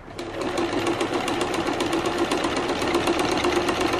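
Sewing machine stitching sideways across fabric on a DIY slide-on table for ruler work, a steady fast mechanical whir with rapid rhythmic needle clatter, close and continuous throughout.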